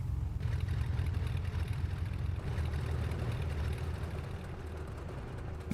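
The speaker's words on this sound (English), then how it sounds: "let's pull our power here, and we will kill our engines." Small airplane engines in Microsoft Flight Simulator X being shut down, a steady loud low engine drone that holds throughout and eases slightly toward the end, with no talking.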